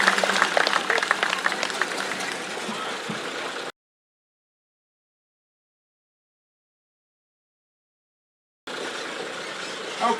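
Audience applause rings out at the 2023 Orphan Car Show, a dense steady wash of clapping that cuts off into silence for several seconds, then returns just as full.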